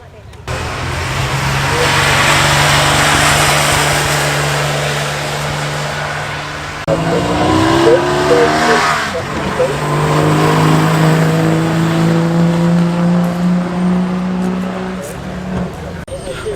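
A vintage Bullnose Morris, running faster than standard, climbs Prescott hill, its engine note droning steadily and close, then shifting pitch and rising again as it accelerates, with people talking over it.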